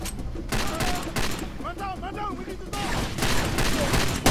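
Rapid bursts of gunfire from the video game Far Cry 2 rattle loudly and continuously, with several sharp shots over a dense, noisy battle background.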